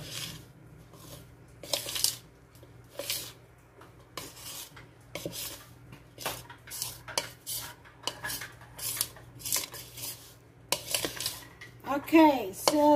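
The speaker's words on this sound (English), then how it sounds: "just get your spoon or whatever it is and just mix that all around" A spoon scraping and stirring biscuit ingredients in a bowl, repeated rhythmic rasping strokes and clinks close by, with a voice speaking briefly at the end.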